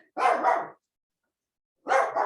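A dog barks in two separate bursts, loud and close, with a clear pause between them during a home Pilates session with a foam roller.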